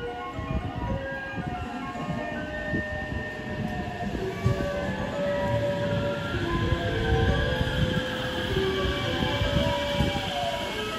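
A passing train rumbles steadily throughout, with clattering wheels and sustained whining, squealing tones layered over a loud, continuous roar, heard alone with no talk.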